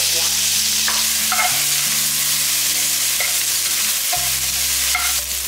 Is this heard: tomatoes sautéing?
yes